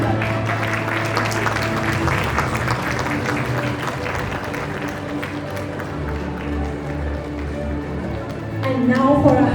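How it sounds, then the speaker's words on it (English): Audience applause at a school investiture and felicitation ceremony, steady crowd clapping sustained throughout with background music or tones underneath and a swell near the end. "a big round of applause for Nitanshi Kaur"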